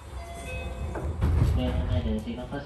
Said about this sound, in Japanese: 夜の住宅街をかけていき、列車は明大前駅に到着です。